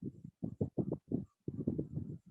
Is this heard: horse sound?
yes